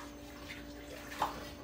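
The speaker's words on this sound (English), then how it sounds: "I need to fill this up with a little bit more water." Water runs steadily into a canning pot while tomato juice is being canned, a faint, even rush with one brief louder splash near the end.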